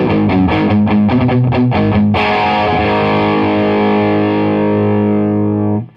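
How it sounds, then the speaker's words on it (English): Distorted electric guitar driven through a Pastfx Canberra Overdrive pedal, a run of sharply picked notes with strong pick attack, then a loud sustained chord that rings out and fades near the end. "That's really bringing out the pick attack."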